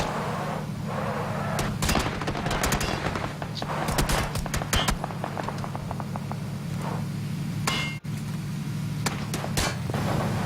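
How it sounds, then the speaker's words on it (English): Rapid bursts of automatic gunfire crackle across a firefight in PlayerUnknown's Battlegrounds, sharp repeated shots over a steady low engine drone, with one brief dropout partway through. "Shots right, shots right."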